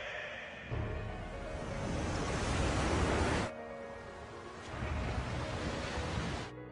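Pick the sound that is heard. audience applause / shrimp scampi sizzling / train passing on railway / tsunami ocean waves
tsunami ocean waves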